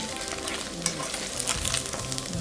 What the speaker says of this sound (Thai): ก็เดี๋ยวเราจะทอดให้สุกเหลืองกรอบนะคะ